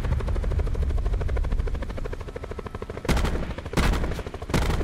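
A helicopter in the Call of Duty Blackout battle royale drones with a steady, pulsing rotor chop at close range, broken near the end by a few sharp bursts of gunfire.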